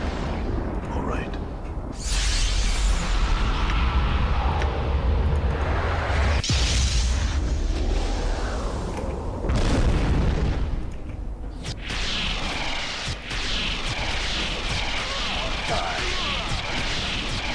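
Gunfire and explosions from the video game Planescape: Torment. Loud booms and crashes rumble one after another with heavy low-end bursts, and game voices are heard throughout.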